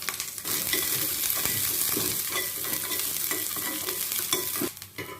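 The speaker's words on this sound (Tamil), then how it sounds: "வெங்காயம் நல்லா வதங்கிடுச்சு." Shallots and a dried red chilli with mustard seeds, urad dal and curry leaves frying in hot oil for a coconut chutney tempering, a steady close sizzle with faint stirring scrapes that cuts off near the end.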